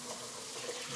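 Water runs steadily from a shower head inside a glass-walled framed shower enclosure, a broad, even hiss of spray with no talking over it.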